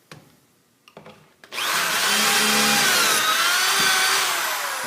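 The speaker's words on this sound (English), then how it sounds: "Lock it down, and then drill your other holes." A power drill bores pocket holes through a wooden face frame rail held in a pocket-hole jig, starting after a few light clicks and whirring steadily, loud and close, for about three seconds alone.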